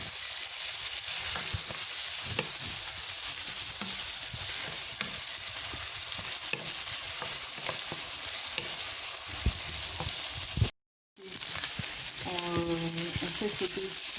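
Shrimp and minced meat fry in a pan with a steady, close sizzle, a short drop to silence, then sizzling resumes while a faint tone rings out.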